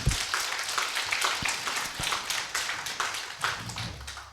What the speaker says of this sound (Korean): 여러분 큰 격려의 박수 한번 부탁을 드립니다